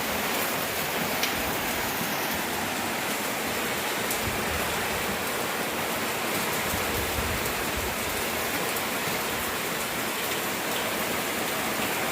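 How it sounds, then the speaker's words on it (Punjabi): Heavy rain pours down steadily in a Punjab village, a dense, even hiss of drops striking surfaces that holds constant throughout with no voices. "ਦੇਖ ਲਓ ਜੀ ਅੱਜ ਤਾਂ ਮੀਂਹ ਨੇ ਫੱਟੇ ਚੱਕ ਤੇ ਬਹੁਤ ਜ਼ਿਆਦੇ ਪੈ ਗਿਆ"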